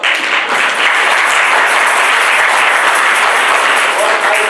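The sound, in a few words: applause from the church congregation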